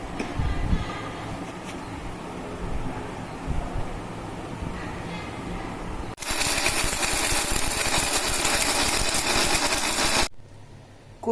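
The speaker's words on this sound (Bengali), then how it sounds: "এখন আমি ব্লেন্ড করছি।" Mixed spices ground in an electric blender for a barbecue beef liver recipe: after quieter kitchen noise, a loud steady motor whir runs for about four seconds, then cuts off abruptly.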